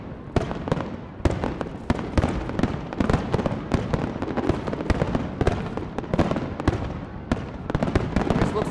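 A fireworks finale bursts at night in a dense, continuous barrage of loud booms and crackling explosions, one rapid detonation after another with no pause, and no talking.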